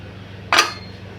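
A pot lid clatters once against a metal cooking pot in a kitchen where crab is being cooked, making a single sharp, bright clink that fades quickly in an otherwise quiet room.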